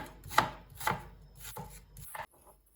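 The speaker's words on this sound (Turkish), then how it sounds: "Bir adet soğanı yemeklik doğrayalım." A knife chops through an onion on a cutting board: several crisp, uneven thuds spaced about half a second apart, close and moderately loud.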